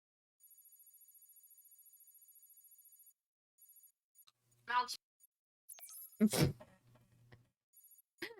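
A mobile phone rings with a steady, rapid electronic trill for a few seconds and then chirps again briefly near the end, with people talking loudly in the middle.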